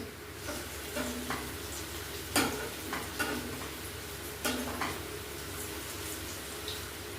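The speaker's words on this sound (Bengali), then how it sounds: "আর একটু ভাজা হয়ে যাবে।" Radish kofta balls frying in ghee in a pan sizzle steadily at close range, with occasional sharp crackles and soft clinks of a utensil.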